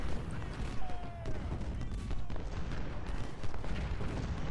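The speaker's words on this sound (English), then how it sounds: "I start creeping that artillery forward so that any units in the fortifications will get hit with" Artillery firing exploding shells in the video game Ultimate General: Civil War, battling around Hardin Pike: a dense, continuous rumble of cannon fire and bursting shells, loud throughout, with no clear gaps.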